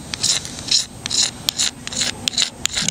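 A knife blade shaving a magnesium fire-starting block, producing repeated short raspy scraping strokes in a steady rhythm, close and fairly loud, with no talking.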